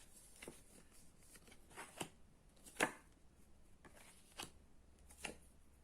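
A deck of tarot cards is cut by hand, giving soft, scattered papery slaps and clicks. The sounds are quiet and close, spaced irregularly over a few seconds.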